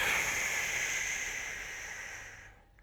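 One long, steady breath drawn close to the microphone after a slow-flow yoga stretching session, a soft airy hiss that holds for over two seconds and then fades into quiet.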